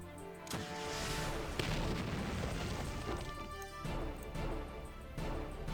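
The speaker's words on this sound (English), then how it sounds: "So I like the rocket pod attack." Rocket pod attack in the Battle Nations strategy game, heard as a steady rumble of booms and muffled blasts with a few sharper bursts, moderately quiet and with no voices.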